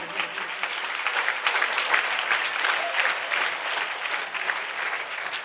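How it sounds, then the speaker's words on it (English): Applause from a school ceremony audience, steady and full with fluttering rhythm, moderately loud and sustained without pause. "Let us give big round of applause once again."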